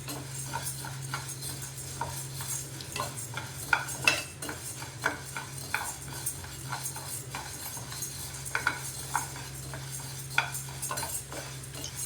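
Lentils dry-roast in a pan without oil while a spoon stirs them, giving a steady run of soft scraping and small clicks with a faint hiss underneath, quiet and close.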